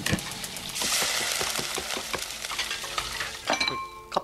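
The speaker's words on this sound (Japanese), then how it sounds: "この調理の音とか" Cooking sounds from the video game Resident Evil Village: busy stirring, sizzling and clinking of utensils and pans in quick irregular strokes, then a brighter metallic ring near the end, close and loud with no talk.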